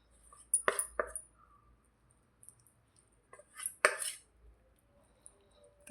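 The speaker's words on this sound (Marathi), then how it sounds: "याला असं छान मिक्स करून घ्यायचं" Pea paratha filling mixed with a spoon in a bowl after a spoonful of oil goes in, giving sparse clinks and scrapes in quick bursts, close and fairly quiet with pauses between.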